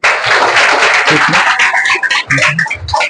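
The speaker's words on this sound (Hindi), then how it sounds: "एक बार तनी ताली लगा दीजिए" An audience at a 10th class felicitation ceremony claps for a student's maths marks, a dense, steady burst of applause lasting a few seconds with low voices murmuring beneath it.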